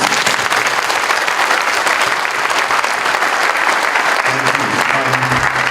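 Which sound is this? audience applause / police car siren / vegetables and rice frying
audience applause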